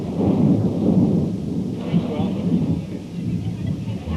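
A thunderstorm with rain gives a deep, rolling rumble under dense steady rainfall, loud and continuous, with a voice speaking over it.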